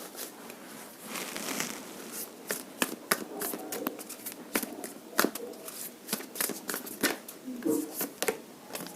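Tarot cards being shuffled and drawn from a deck during a reading: a series of sharp riffling bursts and card snaps at close range, irregular over several seconds, with a faint voice in the background.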